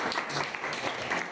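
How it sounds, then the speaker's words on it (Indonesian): A classroom group claps together, a short burst of mixed hand claps filling the room at moderate loudness from start to finish. "Tepuk tangan lagi sekali ya"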